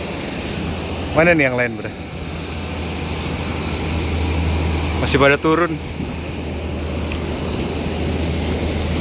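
A steady aircraft engine whine and rumble fills the background while passengers board a plane, with people talking nearby in two short bursts over the continuous drone.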